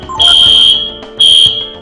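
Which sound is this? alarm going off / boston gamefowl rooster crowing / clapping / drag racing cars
alarm going off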